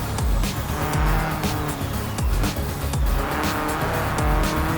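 Simulated car in BeamNG.drive cornering hard, engine revving in repeated surges while tires squeal and skid through the turn, loud and close with no talking.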